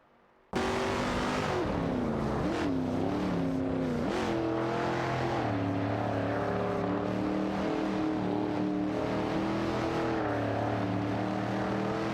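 Race cars in a racing video game roar continuously with engines rising and falling in pitch as they accelerate and shift, several cars blending together in a loud, steady wall of engine noise after a brief quiet start.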